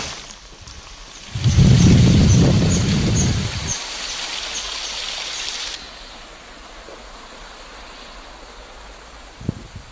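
Swollen Saryu and Gomti river water in Bageshwar surging after a night of heavy rain, a broad steady rushing roar that starts loud and near, then eases to a softer continuous wash.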